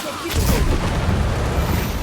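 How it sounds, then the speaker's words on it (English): Dragon's breath gunfire in the video game Assassin's Creed Shadows: a dense, rumbling burst of booming fire that holds for a couple of seconds, loud and close. "I'm being shot with dragon's breath."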